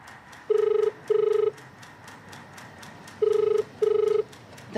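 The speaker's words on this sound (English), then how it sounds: "The phone's ringing and ringing." A telephone rings in two double bursts, each pair of electronic trills sounding clearly and alone against a quiet room background.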